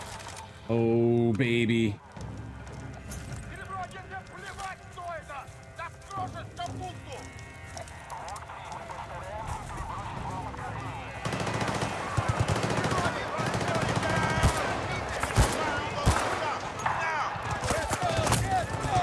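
Gunfire in the Battlefield 6 multiplayer video game: scattered shots give way to dense automatic bursts that grow louder and busier in the second half, with someone speaking briefly over the action.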